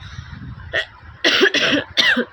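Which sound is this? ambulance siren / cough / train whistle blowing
cough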